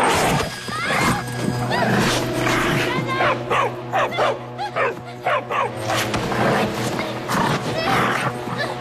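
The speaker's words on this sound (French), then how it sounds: "Cette chienne est enragée, ma chérie." A rabid dog barks repeatedly and growls up close, harsh loud bursts in an uneven rhythm with snarling between them.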